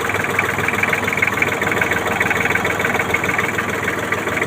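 A Kubota L1-255 tractor engine, an old Japanese import, idles steadily up close with an even low throbbing hum and a faint knocking rhythm, no voices over it.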